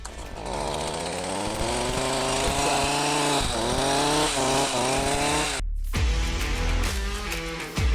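A power trimmer cutting through bushes, a loud, steady, buzzing motor whine held for several seconds, then cut off briefly before starting up again, close by.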